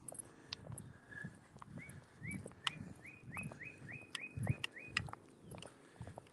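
A small bird sings a rapid run of rising chirps, clear but somewhat distant, over low rustling and background noise.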